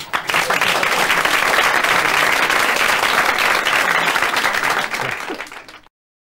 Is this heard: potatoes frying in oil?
no